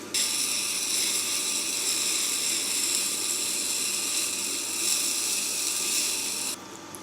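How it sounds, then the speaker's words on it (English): A Tormek T-4 wet grinder runs steadily while a tool is ground freehand against its stone, a continuous close whirring hum with a bright scraping edge that holds for several seconds before easing off near the end. "I'm going to try freehand grinding just to try it out"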